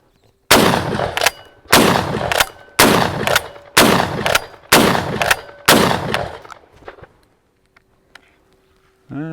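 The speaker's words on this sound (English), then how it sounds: "So yeah, fairly quick, fast follow-up shots." A Templeton T2000 button-release 12-gauge shotgun fires six loud, close shots in quick succession, each blast followed by a short decay, with a brief pause and faint handling noise after the last round.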